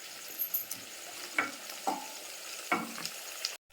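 Chopped vegetables and tomato fry in a pan with a soft, low sizzle, broken by a few sharp scraping stirs and clicks; quiet and close, with no talk.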